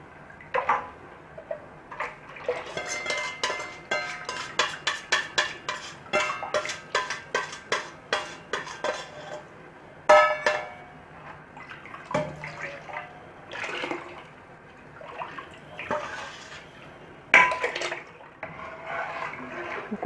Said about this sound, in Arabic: كل الخليط ده بفضل اقلب فيه لغايه ما يبدا يتخن معايا